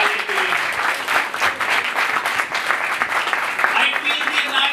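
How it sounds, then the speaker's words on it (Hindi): A church congregation at a worship service applauds loudly in praise of God, a dense, continuous wave of clapping with voices calling out over it. "ऐसे खुदा के लिए जोरदार तालियां बजाएं।"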